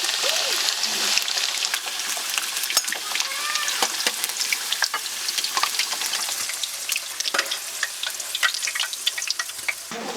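Lamb and potatoes for a briani fry in a pan until golden, giving a dense, steady crackle with sharp pops and spitting bursts throughout, close and fairly loud.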